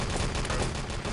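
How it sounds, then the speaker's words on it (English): Gunfire in the shooter game Enemy Territory during a 3-on-3 LAN tournament match, a dense, continuous rattle of rapid shots that blends into one loud, unbroken barrage. "There was a lot of gunfire at the beginning."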